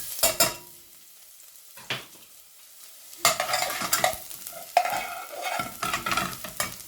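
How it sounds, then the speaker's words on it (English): Garlic hits hot olive oil in a pan, sputtering in short bursts, then breaking into a loud, crackling sizzle with utensil scrapes and stirring clatter nearby. "Alright, so we're adding the garlic."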